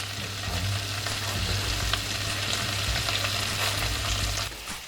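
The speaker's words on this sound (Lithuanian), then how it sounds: "Kai baigia kepti kotletą, šone galite įdėti truputį šonės ir ją paskrudinti" Bacon frying in a pan next to burger patties crackles and sizzles steadily and fairly softly for several seconds, a dense bright hiss over a low hum, tapering slightly at the end.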